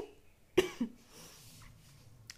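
A single sharp cough, close and loud, followed by a softer second cough, with faint room noise around it.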